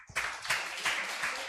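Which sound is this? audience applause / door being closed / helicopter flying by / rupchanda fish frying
audience applause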